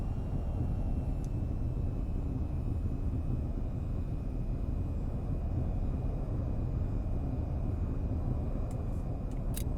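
A steady, unbroken engine roar from an aircraft in VTOL VR holds at a constant loud level with a faint whine on top, and no one speaks over it.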